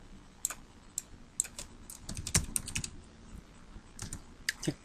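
Rapid, irregular clacking of keys as text is typed on a computer keyboard, close and crisp, with short bursts and pauses and no talking.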